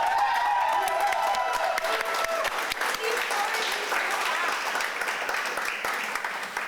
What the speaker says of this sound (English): could I get one more round of applause for our last